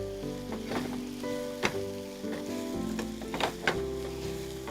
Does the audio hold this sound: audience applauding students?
no